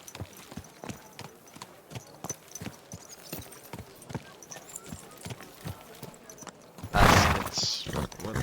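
In the Kingdom Come Deliverance 2 game, a horse's hooves clip-clop in a steady walking rhythm, then the horse lets out a loud, close neigh near the end.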